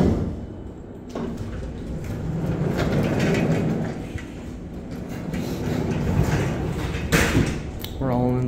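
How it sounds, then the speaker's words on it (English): A vintage freight elevator door slides along with a continuous rumbling, rattling drone, punctuated by a few knocks, and a voice speaks briefly near the end. "Yeah, that's a freight door."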